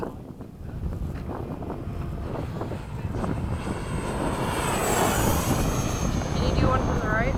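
A Freewing 80mm F-5 RC jet makes a low pass, its steady whooshing roar swelling as it nears, with wind buffeting the microphone and people talking under it.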